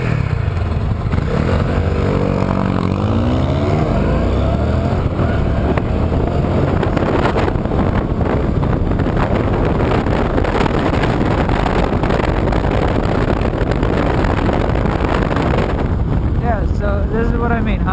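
A 2015 Honda CTX700 motorcycle pulls away hard from a traffic light, its engine loud and rising through the revs against heavy wind buffeting on the rider's microphone, with no pause in the roar.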